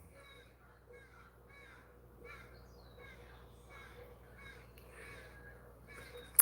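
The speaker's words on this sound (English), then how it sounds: "don't know if you guys can hear these goofy crows out here this morning" Crows cawing outdoors in the morning, a series of faint, distant caws repeating at uneven intervals over quiet background hum.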